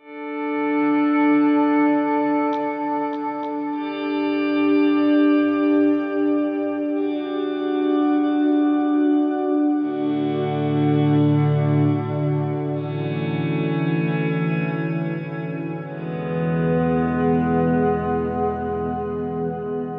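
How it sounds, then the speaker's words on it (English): Slow electric guitar volume swells through a Line 6 Helix fade in one after another, each sustained chord smeared by lush reverb and trailing delay repeats. "the swells button with all the other verbs and delays on"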